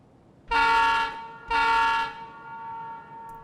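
Train in Escape From Tarkov sounds two loud, sustained horn blasts about a second apart, each a bright tonal chord, followed by a quieter lingering rumble.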